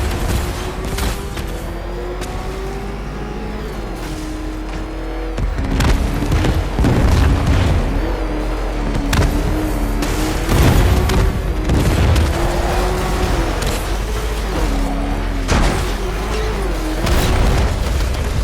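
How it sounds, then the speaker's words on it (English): Deep booming explosions and rumbling blasts from the video game Batman Arkham Knight, loud and continuous, with repeated heavy impacts, crackling debris and a wavering tonal drone beneath. "Warning, explosion imminent."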